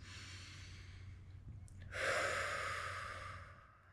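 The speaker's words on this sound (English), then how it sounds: "just begin by taking a couple of gentle breaths" One slow, audible breath drawn in and released during a calming exercise, rising to a soft breathy rush midway and fading out over a low steady hum.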